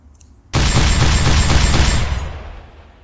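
Gun in the modded game Fallout 3 fired at an NPC, starting abruptly after a quiet moment as a loud rapid burst of shots that holds for about a second and a half before fading out with an echoing tail.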